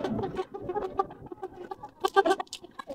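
Tiger chickens raised in a backyard give close, repeated clucks in irregular bursts, with several birds calling over one another and no talking.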